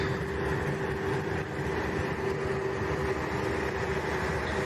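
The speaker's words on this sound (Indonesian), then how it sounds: "Aku memilih pulang dengan kereta." A passenger train running between Jakarta and Bandung, a steady low rumble with a faint hum, heard evenly from inside at moderate volume without pauses.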